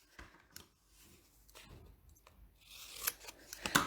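Scissors snipping a slit into folded cardstock paper for a papercraft project; a few quiet, separate cuts, then a brighter, crisper crunching snip near the end.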